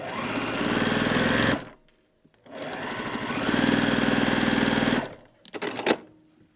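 A sewing machine stitches quilt blocks in two fast, loud mechanical runs with a brief pause between them, ending in a few short bursts.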